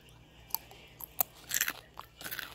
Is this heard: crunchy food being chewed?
yes